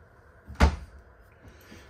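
Soft-close drawers easing shut in the front kitchen of a 2023 Riverstone Reserve 3950FWK fifth-wheel RV: a single muffled thud near the middle, then a second soft knock at the end, with quiet room tone between.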